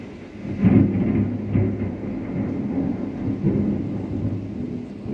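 A thunderstorm with rain, a deep rolling rumble of thunder that swells and fades over a steady wash of rainfall, fairly loud with no voices.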